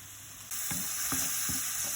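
Grated onion frying in oil in a pan makes a constant sizzling hiss, and three dull scraping stirs land at regular intervals close to the pan. No one speaks.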